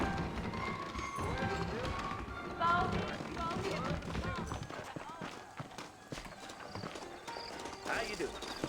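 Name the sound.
horses trotting in video game Red Dead Redemption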